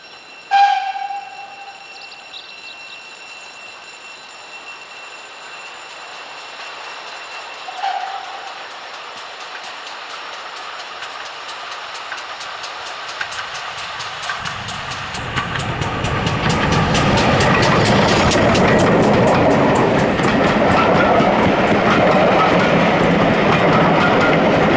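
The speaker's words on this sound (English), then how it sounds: "6960 Raveningham Hall passes by with the 4:45 p.m. Bishop's Lydiard to Minehead service" GWR steam locomotive 6960 Raveningham Hall hauls a passenger train on the West Somerset Railway during an autumn steam gala, approaching from faint distance and swelling into a loud, close rumble with clattering wheels over the rails.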